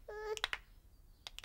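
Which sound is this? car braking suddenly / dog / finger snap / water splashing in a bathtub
finger snap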